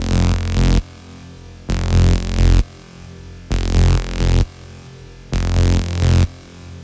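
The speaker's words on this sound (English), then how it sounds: "when they're blended together, layered together with the reverb enabled, both combined sound like this" Two layered trance synth basses with reverb play together in four loud sustained blocks of roughly a second each, separated by short gaps where the reverb tail fades, with a thick low end and bright upper harmonics.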